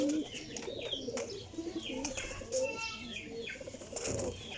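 Racing pigeons coo in a loft, low throaty calls repeating steadily at moderate volume, mixed with occasional wing flaps and light chirps.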